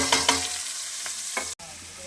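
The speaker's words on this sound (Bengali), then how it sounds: "পেঁয়াজটা আমার লাল লাল করে ভাজা হয়ে গেছে" Steady broadband sizzle of onions frying in hot oil until browned, with a few louder crackles and stirring clinks, briefly cutting out near the end.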